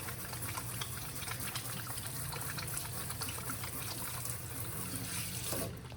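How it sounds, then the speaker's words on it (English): Running kitchen tap water splashes steadily while hands are rinsed after handling raw shrimp, a continuous close, even rush with no pauses. "I'm gonna wash my hands again because I touched the shrimp"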